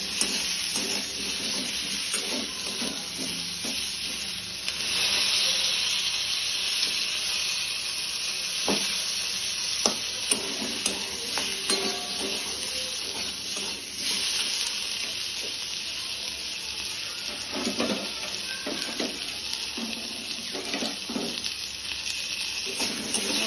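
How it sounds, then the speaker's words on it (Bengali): A paste of cumin, onion, ginger and a little garlic sizzles steadily in a pan for a baby's lunch, a continuous close frying hiss with occasional stirring clinks. "একটু ভাজা হয়ে গেলে ওটা দিয়ে দেবো"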